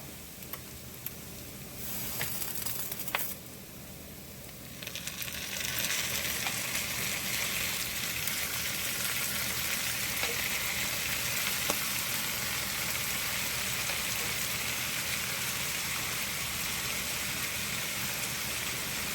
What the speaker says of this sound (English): next we're going to add our tomatoes